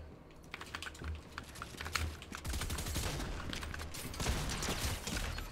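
Fortnite gunfire, including a sniper's shots, cracks out in sharp bursts over dense, steady keyboard clatter, with a heavier volley near the end.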